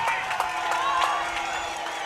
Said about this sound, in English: Jensen crowd getting loud